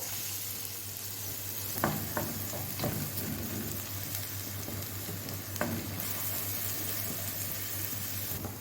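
Onions sautéing in a pan as the first step of a traditional Egyptian taro and meat tray bake, a constant loud sizzle with occasional stirring scrapes and clinks, close up with no talking.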